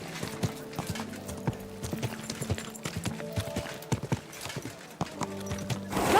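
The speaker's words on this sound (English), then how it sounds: "Don't you know how to keep your horse under control?" A horse in the video game Kingdom Come: Deliverance 2 moves in a rapid, uneven run of hoofbeats close by, with a brief neigh mixed in.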